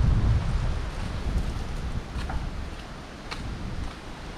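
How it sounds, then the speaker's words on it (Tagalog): Strong wind on Bermuda island rushes past in a steady, moderately loud blustery noise, easing slightly over a few seconds with faint distant ticks and no talking. "Lakas na hangin."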